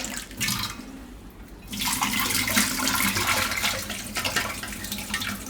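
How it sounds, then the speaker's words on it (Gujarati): Moong dal being rinsed in a bowl of water in a home kitchen, with steady splashing and swishing of water and grains, close and fairly loud, continuous throughout with no talking. "એક પાણી નાખીને ધોઈ નાખવાની"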